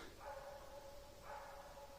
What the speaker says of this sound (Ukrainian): гавкає, щось знайшов.